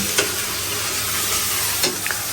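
Spice paste for meat being sautéed in a pan, a steady broadband sizzle with a few sharp scraping stir strokes near the start and end.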